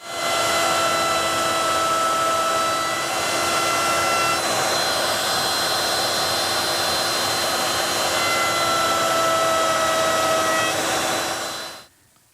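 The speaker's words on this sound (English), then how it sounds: "To make the bull nose, I'm going to use my 1/2-inch radius roundover bit" A router fitted with a 1/2-inch radius roundover bit shapes a bull-nose edge on shelf stock, giving a loud continuous high whine throughout that cuts off sharply at the end.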